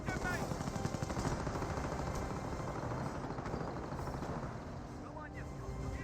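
A trench takes fire in Company of Heroes, a steady clatter of machine-gun bursts and rifle shots beneath a dense battle din with engine drone, while a voice talks over it.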